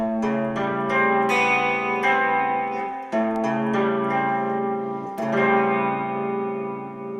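Electric guitar notes A4, D5 and G5 ring out one after another from the thickest string with a shimmering chorus effect, chord tones sustaining and overlapping, clean and close, no voices.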